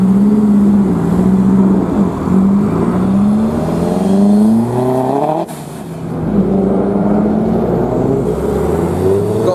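A black Ford ST with gold wheels drives past at a Ford RS National Day show, its engine note climbing and falling through revs, loud and close, with a brief dip midway before it picks up again.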